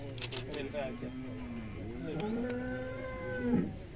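Cows at the Walhe drought-relief fodder camp give several long, low moos one after another, fairly close and steady. A faint metallic jingle is heard at the start.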